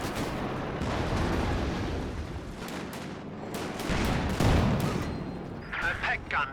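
Mortar shells and gunfire thump and crack in a Company of Heroes 2 battle, with several sharp bursts scattered over a busy, noisy backdrop and a commentator talking over it.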